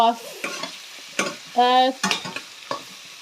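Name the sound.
garlic frying in a pan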